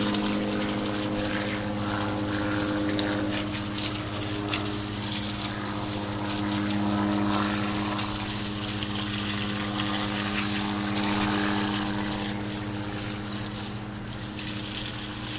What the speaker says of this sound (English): Where's the airplane?